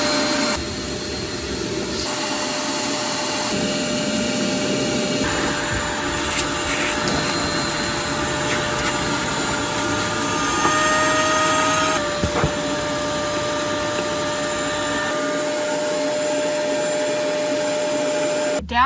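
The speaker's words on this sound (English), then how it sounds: "okay, now we're gonna go ahead and vacuum" A vacuum cleaner runs loudly and steadily while clearing mouse debris from the cabin air filter and blower motor area of a Nissan NV200, its pitch shifting as the nozzle moves, with occasional knocks and no talking.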